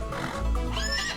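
A horse whinnies loudly and close in the Western video game Outlaws of the Old West, one sustained neigh with no talk over it.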